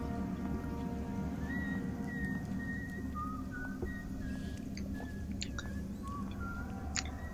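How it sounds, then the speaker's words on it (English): A thin whistled melody of short sustained notes from the game Dishonored plays over steady rain-like hiss, moderately loud, continuing throughout. "Can't tell you how many times I've heard that whistle tune."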